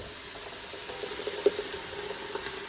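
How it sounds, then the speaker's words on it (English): Thick blender-made chipotle sauce for chicken tinga poured into a hot pan, a steady watery rush with soft sizzling, continuous and close, with one brief louder splash midway. "then we will add our blender full of sauce"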